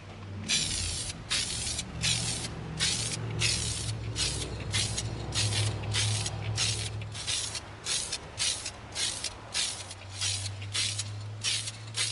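Repeated short bursts of aerosol spray paint, satin nickel sprayed onto EVA foam, hissing in quick even pulses over a low steady hum, close and fairly loud.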